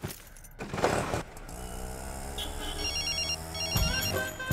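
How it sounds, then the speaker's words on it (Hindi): A phone rings with a repeating electronic tone pattern, moderately loud, over background engine and street noise. "फिर से फोन कर रही है।"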